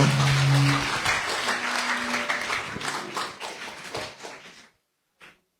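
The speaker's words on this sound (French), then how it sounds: "je vais vous demander de l'applaudir très fort, s'il vous plaît" Audience applause at a graduates' evening, loud and dense at first, then thinning into scattered claps before fading to silence, with one brief final burst near the end.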